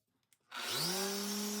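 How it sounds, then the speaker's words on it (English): A Festool Rotex sander works reclaimed cypress fence pickets. A few faint knocks come first, then the motor spins up into a loud, steady whirring drone that holds to the end. "We'll start by sanding these pickets down and try to keep some of the character and patina if possible."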